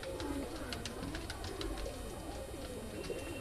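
Old Madrasi pigeons cooing in a loft, soft low repeated coos close by over a quiet background.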